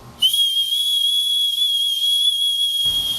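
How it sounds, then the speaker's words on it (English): A single loud, shrill whistle blast held steadily for nearly three seconds, then cut off abruptly. "that is a whistle"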